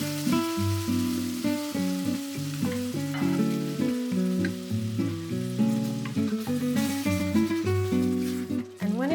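Tomato sauce hisses and bubbles in a pan over fried mushrooms and onions, a soft steady sizzle that sits beneath loud melodic background music throughout.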